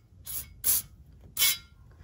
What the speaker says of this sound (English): I'm just gonna go ahead and spray it with some of this stuff.